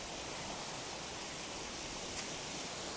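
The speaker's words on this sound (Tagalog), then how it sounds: "Napakaganda ng falls." A waterfall on a river in Aichi, Japan, roars as a steady, dense wash of falling water, continuous and even throughout with no voices.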